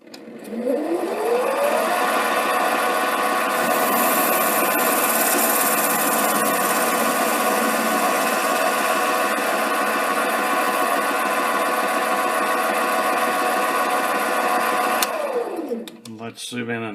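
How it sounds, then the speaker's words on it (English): A mini lathe makes a facing cut on aluminum with a high-speed steel insert: the motor whirs up in pitch, holds a loud, steady whine for about thirteen seconds, then winds down. "This time we'll take a cut using the high-speed steel insert."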